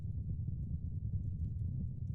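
Horse archers ride at speed in Mount & Blade II: Bannerlord, their hooves making a dense, rapid clip-clop drumming that rolls on continuously with no voices over it.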